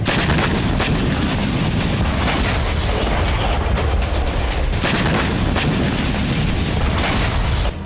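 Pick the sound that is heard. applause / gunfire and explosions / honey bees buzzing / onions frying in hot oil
gunfire and explosions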